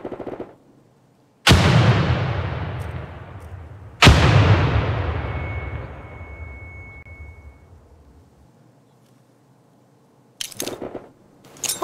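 Two heavy grenade blasts boom in succession on a grenade range in the PC game America's Army 3, each a sharp, loud crack with a long rumbling decay. A brief burst of noise follows near the end.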